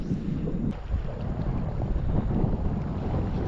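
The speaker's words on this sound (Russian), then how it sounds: "Опять ветер." Steady wind buffets and roars across the microphone while fishing outdoors by the water, a continuous loud low rumble with no talking.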